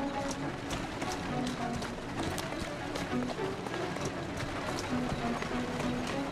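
A horse's hooves pound in a fast, steady galloping rhythm in the video game Assassin's Creed Syndicate, over a continuous background hiss, fairly quiet and without talk.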